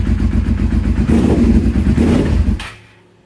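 A 2002 SV650S motorcycle engine, not yet warmed up, revs loudly up close, rumbling and rising briefly before cutting off and fading to quiet.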